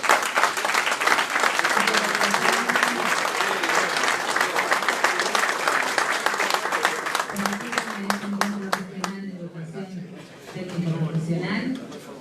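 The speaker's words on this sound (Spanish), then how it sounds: "Con este aplauso lo despedimos." Sustained audience applause at an education gathering bidding farewell to a professor, dense and steady for several seconds, then thinning into scattered claps as voices and talk rise beneath it near the end.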